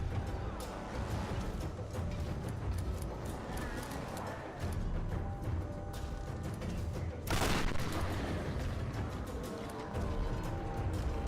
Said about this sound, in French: Alors le fusil à pompe à 10 mètres, Ben, c'était pas le meilleur truc à faire